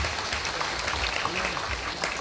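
An audience at a foundation day gathering claps together, a dense continuous patter of many hands that stays fairly even throughout the short stretch.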